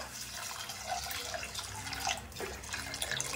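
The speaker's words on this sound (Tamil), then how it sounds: "அதே டம்ளர்ல 4 டம்ளர் அளவுக்கு தண்ணி சேர்த்துக்கலாம்" Water is poured from a tumbler into rice being prepared for malli pongal in an Udupi-style kitchen. It makes a soft, continuous trickle and splash for a few seconds, fairly quiet and close.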